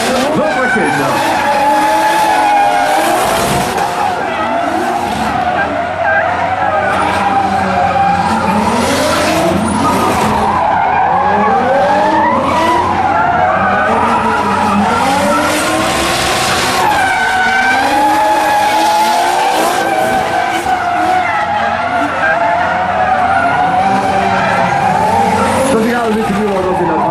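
Drift cars from a Falken team show, including a Toyota-turbo BMW M3 and a Nissan Skyline, roar at Luxexpo 2013 indoors with long, loud tire squeals and skids over constant engine noise and crowd din.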